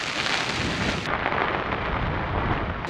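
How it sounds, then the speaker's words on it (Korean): Heavy rain pours down during camping on an uninhabited island off Namhae, a dense, steady, loud hiss of drops drumming on surfaces without letup. "비가 엄청 많이 오는데"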